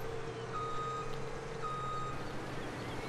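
A truck in the Farming Simulator 17 video game gives steady reversing beeps over a constant low engine drone, the evenly spaced tones running for about three seconds.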